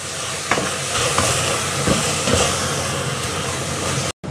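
Minced pork for Lao larb stirs and fries in a pan, a steady dense sizzle with a few sharp scrapes and clicks of the utensil against the pan, close and continuous with no talk until a brief break at the end.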